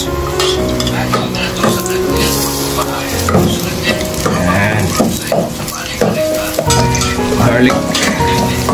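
Onions frying and being stirred in a pan, a steady loud sizzle with repeated scraping and clinks of a utensil against the pan, close by and without talk.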